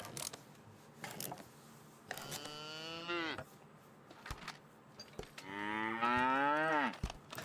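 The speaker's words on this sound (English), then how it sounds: "got some serious cow sounds going on." Cows in the medieval farming game Medieval Dynasty give two long, drawn-out moos, one after the other, with faint ticking and clicking between them.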